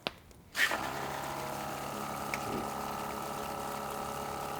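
Hot tap water gushes at high pressure, starting abruptly after a brief quiet moment and then running as a steady, fairly loud rushing stream with no talk over it.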